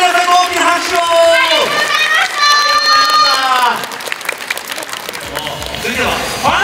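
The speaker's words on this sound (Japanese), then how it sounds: "メンバーに大きな拍手を、そして会場の皆さんも大きな拍手を、" Applause from a concert audience for the members of a performing group, with clapping and crowd noise under sustained musical tones and a voice on a microphone, settling into looser clapping near the end.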